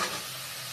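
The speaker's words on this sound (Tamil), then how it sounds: "எல்லா காயும் போட்டு நல்லா வதக்கலாம்." Mixed vegetables sauté and stir in a hot pan with sambar powder for a ration-dal meal, a brief steady sizzle with a faint scrape at the start, close and fairly quiet, no voices.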